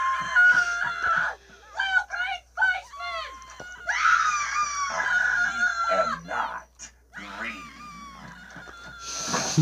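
A chicken in the Destroy All Humans! video game squawks and crows in a series of loud, wavering calls across a farm scene, with voices and game sounds mixed in.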